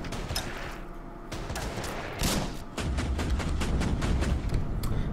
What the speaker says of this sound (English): And then take a shot at the AA gun as well.